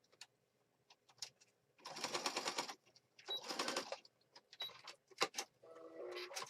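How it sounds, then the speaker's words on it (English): A sewing machine stitches over a fabric band wrapped around an apothecary-style junk journal, running in several short bursts separated by pauses, fairly quiet with small clicks and handling noises between runs. "So I want to sew over the band that's going to wrap my journal."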